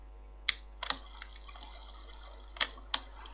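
Water being placed in a block-building video game, heard as a few sharp clicks and soft splashy taps scattered at close range, with a quiet tonal hum underneath and no one talking.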